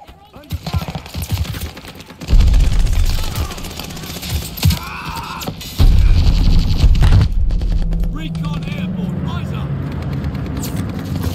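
Type 99 sniper rifle gunfire in Call of Duty Vanguard during a Team Deathmatch match on Gondola: two loud, heavy blasts of game combat noise cut in sharply, with a player talking throughout.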